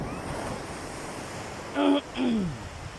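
Sea waves wash at San Fabian beach in a steady surf rush, while a voice briefly calls out near the end.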